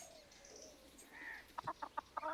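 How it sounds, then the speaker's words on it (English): Chickens cluck in the video game Pentiment, a faint ambient murmur at first, then a quick run of five or six close, clipped clucks near the end, with no talking. "Those chickens."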